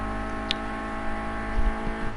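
Race cars circuit Snetterton's Bentley Straight during a Class A round, weaving to warm their tyres, a steady loud engine drone with harmonic whine and a brief sharp burst near the start, no voices.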